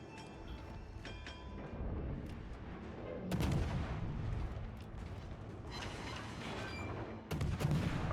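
A ship's guns fire in a naval video game, with heavy booming shots against a steady rumble of battle and the loudest blasts arriving a few seconds apart.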